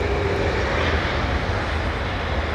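A fixed-wing airliner making a crosswind landing at London Heathrow Airport, a loud continuous engine roar and rush close by that holds steady throughout with no voices over it.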